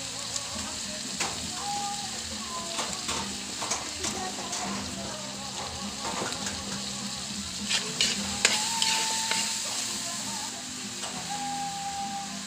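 Banana heart sautéing in a hot pan with ground chicken, a continuous crackling sizzle broken by scraping stirs and clinks, with a voice talking over it at times.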